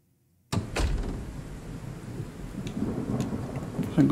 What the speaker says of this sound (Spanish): Nos encontramos lluvia.